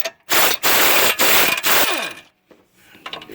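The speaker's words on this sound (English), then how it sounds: "we're gonna grab our impact or our breaker bar or whatever tool we're using, and we're gonna go ahead and take these two 18mm nuts off the steering knuckle" Impact wrench spinning off 18mm caliper bracket nuts on the steering knuckle of a 2010 Cadillac SRX during a brake job, several loud hammering bursts close by, then a short pause and fainter clicking handling noises.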